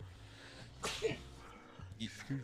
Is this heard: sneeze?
yes